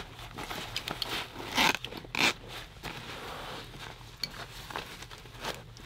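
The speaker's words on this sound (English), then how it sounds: "And then again on this side of the bag, again zipping this up" Zipper on an Eberlestock bag being pulled closed, several short scratchy zips in quick bursts with two louder pulls near the middle, close and clear over quiet handling noise, no voices.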